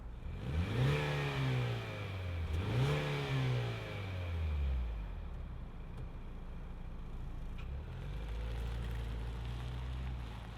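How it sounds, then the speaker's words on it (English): A 2025 Lincoln Nautilus Black Label SUV engine fires up and revs loudly twice in quick succession, then settles into a steady close idle with a lighter blip near the end. "But since we got a good old internal combustion engine, let's fire it up and see this Lincoln move."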